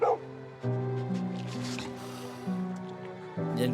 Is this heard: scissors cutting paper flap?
no